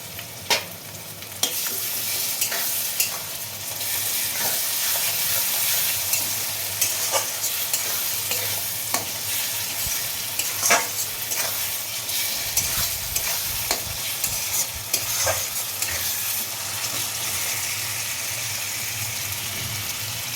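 Stone-ground ginger and garlic paste frying with goat mutton in a pan, a continuous close sizzle with regular stirring scrapes and clicks, steady throughout with no talk.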